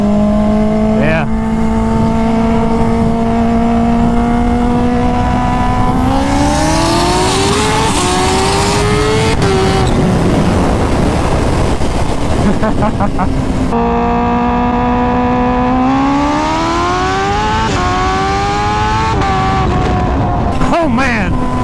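A twin-turbo Lamborghini and a Kawasaki H2 run together at a race, engines droning loud and close with rising and falling pitch sweeps as they rev and accelerate, anti-lag crackle and pops mixed in, while people talk over the noise.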